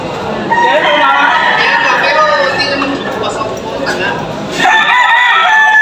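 Roosters crow repeatedly at a cockfighting arena, several drawn-out harmonic calls overlapping amid crowd chatter and someone talking close by, with a fresh crow after a brief lull.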